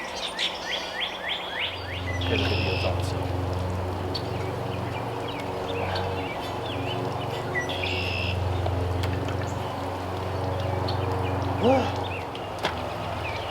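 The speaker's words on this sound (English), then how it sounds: "You get to listen to the birds while we're doing it." Birds chirp and tweet steadily outdoors over a low background hum, while a person speaks briefly near the start.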